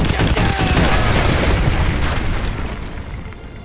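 A danger-close artillery strike explosion in Call of Duty: Modern Warfare 2, a loud, dense roaring blast with crackling debris that stays heavy for a couple of seconds before slowly fading.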